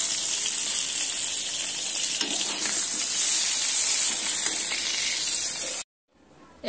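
Chopped onion dropped into hot oil that was just used to fry brinjal pieces, sizzling loudly and steadily, then cutting out abruptly near the end.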